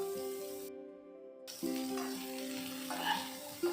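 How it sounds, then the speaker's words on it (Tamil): Steady sizzling and frying of chopped radish and onions in a pan, continuous and close, with a brief gap and a few soft scraping stirs near the end. "இதை நல்லா வதக்கி விடுங்க."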